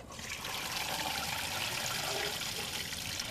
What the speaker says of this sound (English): first thing we're going to do, we got to strain it.